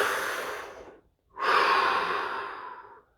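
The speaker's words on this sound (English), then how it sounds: "Deepest breath yet." Deep breathing during a guided breathwork session: one long audible exhale, a short silent pause, then a long deep inhale or exhale, close and alone.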